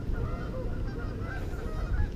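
Geese honking constantly by the water while bass fishing, a steady overlapping chorus of nasal honks close by with low rumbling wind or water noise beneath.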